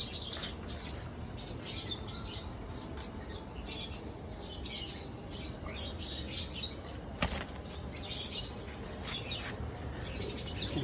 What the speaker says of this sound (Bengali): এই যে ওদেরই বাচ্চা মাদি কবুতর মাদি কবুতর